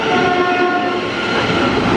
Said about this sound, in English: Here it comes. The train!